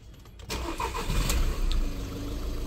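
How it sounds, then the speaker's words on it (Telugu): A 2016 Volkswagen Vento Highline Plus diesel cranks and fires after a brief quiet moment, then settles into a steady, close, low diesel idle rumble. "కార్ అయితే ఒకసారి స్టార్ట్ చేస్తానండి"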